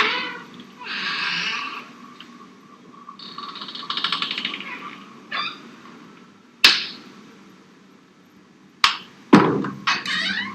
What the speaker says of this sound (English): An inner door, incessantly opening and closing in an annoying way.